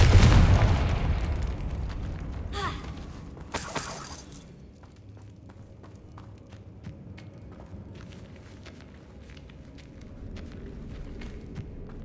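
A Confringo blasting spell detonates in the video game Hogwarts Legacy, with a couple of sharp, shattering bursts over loud rumbling game ambience, then settling into quieter background noise with faint clicks.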